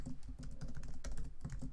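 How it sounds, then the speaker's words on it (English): Fast typing on a computer keyboard, a rapid uneven patter of clicky keystrokes close to the microphone, with no talking over it. "Just trying to type it fast"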